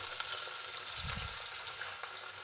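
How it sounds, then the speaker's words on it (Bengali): Pieces of hilsa and rohu fish fry in hot oil, giving a steady, moderately quiet sizzle that fills the whole stretch. A low thud comes partway through, and no voices are heard. "তেল গরম হয়ে গেছে, এক এক করে মাছগুলো ছেড়ে দিই।"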